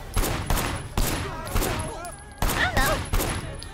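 Repeated bursts of gunfire from the open-world game Sleeping Dogs: Definitive Edition, loud and close, arriving in rapid volleys about every half second, with a voice speaking faintly underneath.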